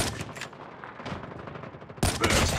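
Rapid gunfire from a Call of Duty match crackles steadily for two seconds, then a louder, denser burst of shots erupts near the end, with no voices over it.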